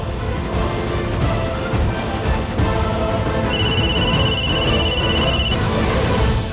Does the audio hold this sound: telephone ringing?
yes